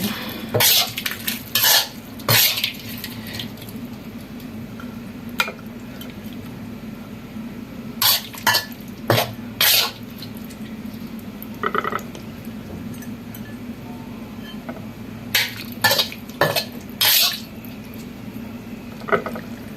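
Stir-fried basil pork being plated, with a spatula scraping and clinking against a pan and dishes in sharp bursts of cutlery clatter over a low steady hum.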